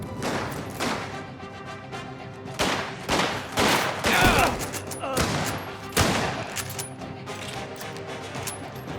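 Gunfire rings out in the crime video game Mafia: The Old Country, with repeated sharp shots and rapid bursts coming in clusters, loud and close, separated by short pauses.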